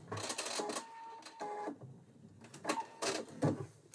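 A home sewing machine locks a stitch while quilting a patchwork of batting pieces, giving a few quiet, clattering mechanical bursts that run in short spurts and then pause.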